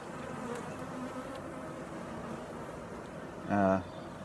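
Honey bees swarm over an open hive during an inspection, a soft, continuous buzzing hum that fills the background throughout, with a brief tonal sound near the end.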